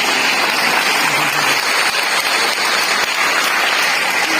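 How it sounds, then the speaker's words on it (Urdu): Sustained audience applause fills a festival hall during an Urdu literary talk, a dense, steady wash of clapping from a large crowd lasting throughout with no pause. "بجا دیجیے نا تالی."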